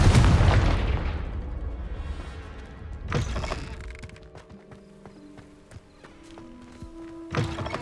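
A Confringo explosive spell blast in Hogwarts Legacy, one heavy close boom opening the moment with a long rumbling decay, then a sharper second impact, with faint sustained game tones afterward.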